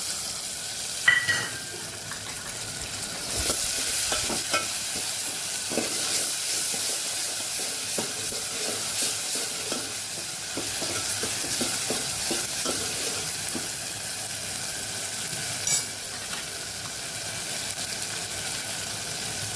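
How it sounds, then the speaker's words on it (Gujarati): Tomatoes sauté in a hot pan for Kathiyawadi urad dal tadka with a continuous loud sizzle and hiss. Stirring scrapes come through now and then, close and without voices. "આપણે ટમેટાને પણ સાતડી લેવાનું છે"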